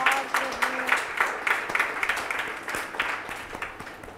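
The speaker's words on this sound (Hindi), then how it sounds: "क्या दो आदमी ताली बजा रहे हैं।" A few people clap in scattered, uneven rhythm during a church sermon by a pastor, light handclaps repeating steadily through the moment with a faint voice early on.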